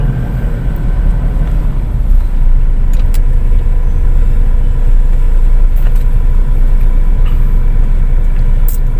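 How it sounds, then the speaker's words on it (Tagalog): Congested road traffic in Bilya, a loud close engine rumble that runs the whole time, idling and creeping vehicles with scattered faint clicks and knocks on top. "Traffic na nga, traffic na sa Bilya."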